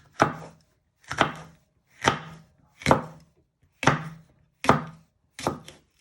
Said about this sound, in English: And then you just want to finely slice them